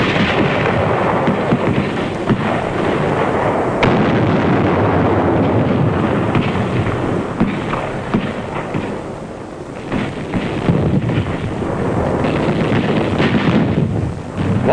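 World War II artillery barrage during the Gilbert and Marshall Islands campaign at Kwajalein, recorded on archival film as a continuous loud, dense roar of booming fire with a rough, distorted quality and no talk.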